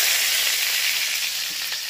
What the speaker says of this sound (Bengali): এর মধ্যে দিয়েছি রসুন কুচি।